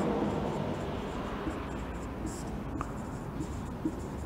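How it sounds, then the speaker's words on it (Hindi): Writing on a board during a university abstract algebra lecture, a faint continuous scratching stroke sound with a few small taps, beneath a steady hum of room noise. "तो मैं लिखता हूँ"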